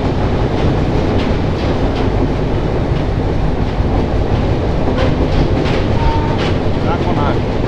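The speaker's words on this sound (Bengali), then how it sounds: "কাকনহাট রেলওয়ে স্টেশন পার করছি আমরা এখন" The Banalata Express train rolls steadily through Kakonhat railway station on a foggy morning, a loud continuous rumble with wheel clatter heard from aboard, and faint voices in the carriage.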